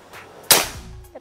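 A single sharp crack from a Predator Bocap Black Army Phantom full-CNC PCP air rifle, one close, abrupt shot that decays quickly into quiet.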